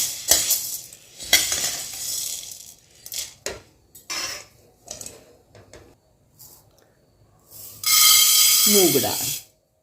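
Roasted millet and lentil grains are tipped from a pan into a steel pot, giving scattered clinks and scraping rattles, then a loud sustained pouring hiss near the end, close and fairly loud with no talking.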